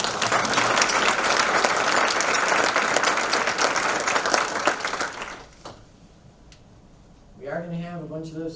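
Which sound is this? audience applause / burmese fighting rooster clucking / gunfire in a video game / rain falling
audience applause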